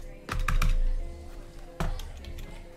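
Bursts of rapid keyboard typing, close and clicky, with a pause between two flurries and faint background noise.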